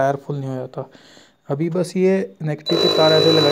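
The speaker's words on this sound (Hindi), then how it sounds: "बीप की आवाज़ आपको सुनाई दे रही होगी।" The buzzer of a 12-volt automatic tyre inflator project starts a steady, high, continuous beep near the end, partly under a man's close, loud speech.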